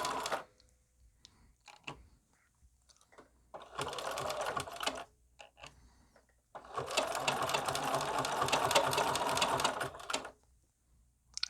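Sewing machine stitching a banner in bursts, rapid mechanical chattering runs of about one and three seconds separated by quiet pauses and a few single clicks, close up with no talking.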